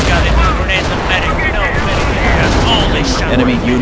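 Boys anti-tank rifle shots in Company of Heroes: Far East War, heavy gunfire and booms in a loud, busy battle mix while someone talks over it.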